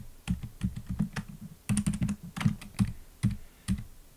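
Arrow keys on a computer keyboard tapped repeatedly while the Alt key is held during video editing, giving a close, crisp run of quick clicks in bursts with short pauses, no talking.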